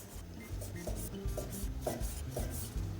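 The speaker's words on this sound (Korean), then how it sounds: "오징어는 5cm 정도 길이로 할 건데요. 5cm 길이로 맞춰서 잘라주시고요." A knife slicing squid into 5 cm strips on a cutting board, a steady series of soft, rubbing cuts with light taps about every half second, close and quiet with no talking.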